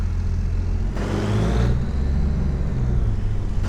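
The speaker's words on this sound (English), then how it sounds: "I am going to get into the harvester though." A combine harvester engine in Farming Simulator 25 on the Kinlaig Highlands map rumbles up with a low, steady drone and a rising whir, loud and close, running continuously with a brief surge in the middle.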